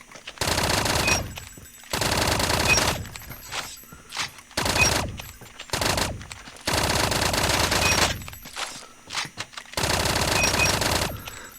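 Long, rapid automatic bursts from a Fennec submachine gun in a video game, loud and close, separated by short pauses.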